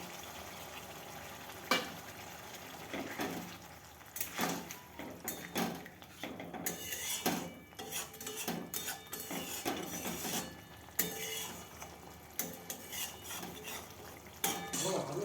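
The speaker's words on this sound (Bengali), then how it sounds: "খুব ভালো করে কষিয়ে নেব।" A spoon stirs paneer and onion curry sautéing in a pan, scraping and clinking in irregular strokes over a soft sizzle at close range.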